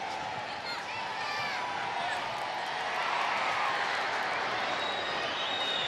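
A Portuguese crowd at a women's international football friendly between Portugal and Wales reacts to a tackle, a broad steady roar of many voices rising slightly midway, heard from a distance throughout.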